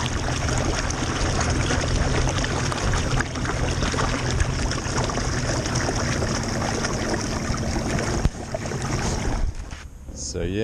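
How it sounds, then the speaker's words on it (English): A Minn Kota trolling motor drives a kayak at full throttle into a slight headwind, giving a steady whir under rushing water and wind noise throughout. "Here, I'll go full throttle for a second. We're in a slight headwind as well."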